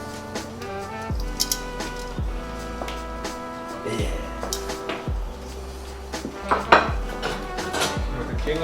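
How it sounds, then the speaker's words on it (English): Tongs clatter as food is tossed in a pan and served onto a plate, giving close, irregular metallic clinks and scrapes with occasional louder knocks of utensils against cookware, with no talking. "Some tongs to toss it around a little bit. We can plate some of that up."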